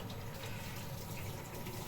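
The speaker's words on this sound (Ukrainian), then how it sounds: "наливаємо соєвого соусу" Soy sauce poured while making a sushi cake and sushi salad, a steady continuous liquid pour lasting about two seconds, close and fairly loud with no voices.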